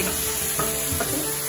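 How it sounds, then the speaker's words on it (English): Eggs frying in a hot pan on the stove make a close, continuous sizzle, broken by a couple of quick scraping stirs. "I want to fry my eggs."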